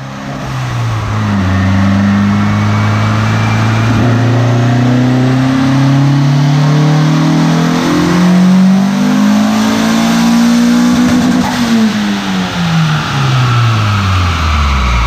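A turbocharged car engine on a dyno runs at 15 PSI of boost, loud and close. It revs steadily upward through a long pull, peaks near the end and then drops off, with no talk over it.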